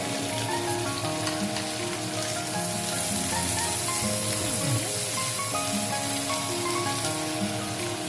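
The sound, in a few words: ginger and garlic being added to a frying pan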